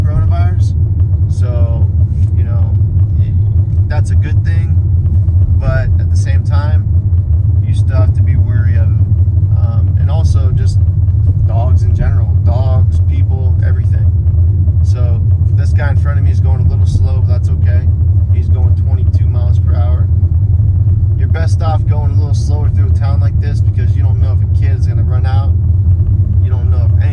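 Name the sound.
car driving on back roads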